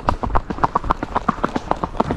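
A chestnut Andalusian horse's hooves clip-clop in a quick, regular rhythm of close, distinct strikes while being schooled under rein, with a voice faintly in the background.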